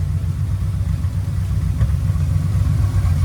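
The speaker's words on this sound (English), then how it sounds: "It's idling really nicely." A 1973 Triumph TR6 with a newly installed exhaust idles steadily nearby, a smooth, throaty low rumble holding an even pitch throughout, with no one speaking.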